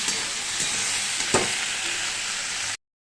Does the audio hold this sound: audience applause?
no